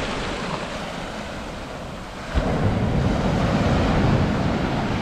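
Sea waves washing up a beach near a shipyard in Shenzhen, China, a steady roar of surf with wind buffeting the microphone, growing louder as a wave surges in midway.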